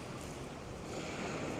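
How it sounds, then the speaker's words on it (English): Small sea waves wash ashore at Felixstowe under a strong breeze, a steady, fairly faint surf hiss blended with wind noise and no voices. "And there's some nice little waves coming ashore."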